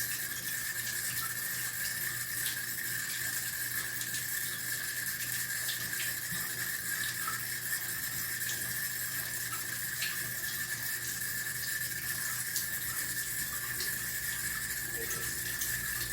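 A sink faucet runs steadily during handwashing, producing a constant hiss of water that continues alone and unbroken throughout.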